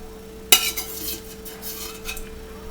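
A spoon scrapes and clinks once against a pot or bowl while spinach and a soft poached egg are spooned onto pan-fried pot sticker dumplings, followed by quieter soft handling sounds.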